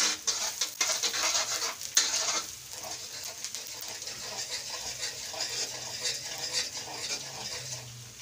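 Chopped tomatoes go into a pan while fish fries nearby: a few sharp utensil clinks and scrapes come first, then a soft, steady sizzling patter continues, fairly quiet and close.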